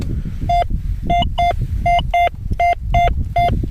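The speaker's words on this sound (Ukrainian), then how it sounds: "Хочу показати сигнальчик, такий, знаєте, як на динарика б'є." A Gauss MD metal detector sweeping an open, windy field in Ukraine gives a target signal. Sharp, bright beeps come singly and in quick pairs, about a dozen in all, over a steady low wind rumble.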